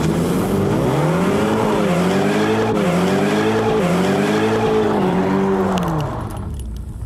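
A Ford Mustang drives hard with its tires squealing loudly in repeated wavering, rising and falling squeals over a roaring engine, then fades off at the end.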